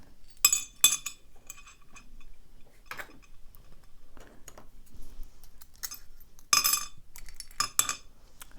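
Metal clicks and clinks of a screw being worked out of the shackle hole of an American Lock 5360 padlock, sharp bright ticks in scattered bursts against near silence, close and fairly faint.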